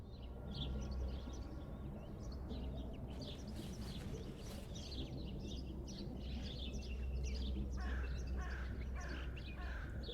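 A bird calls repeatedly in the video game Martha Is Dead, a series of chirping, cawing notes in irregular bursts over a steady low ambient rumble, moderately clear and continuing throughout.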